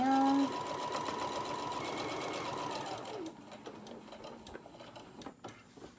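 A sewing machine stitches a zippered pencil pouch in a steady run of fast mechanical whirring that stops about halfway through. Quiet handling noises follow.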